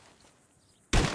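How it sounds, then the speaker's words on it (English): A single sudden, loud gunshot rings out in a Red Dead Redemption 2 shooting duel, cracking abruptly after near silence and leaving a brief decaying tail. "Draw your gun and aim when you're ready, all right? Shoot!"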